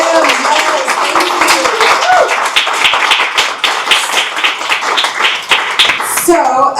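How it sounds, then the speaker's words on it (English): An audience at a poetry reading and open mic gives dense, continuous clapping for several seconds, fairly close and loud, with a voice briefly heard near the start and end. "Can we give another round of applause for DM?"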